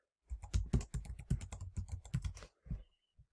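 Fingers type a word on a computer keyboard, a quick run of close, crisp key clicks for about two seconds, then a couple of isolated taps.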